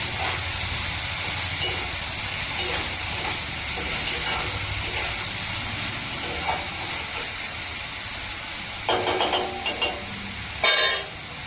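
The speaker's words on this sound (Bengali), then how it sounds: "তো এদিকে উচ্ছে ভাজা হোক" Bitter gourd slices fry in a hot wok with a loud, continuous sizzling hiss, close by, punctuated by occasional clicks and a few sharp spatula scrapes and bursts of spattering near the end.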